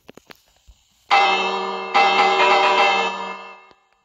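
A bell in a video game rings twice, loud and close, each strike sustaining a rich humming tone that fades slowly after a few soft clicks.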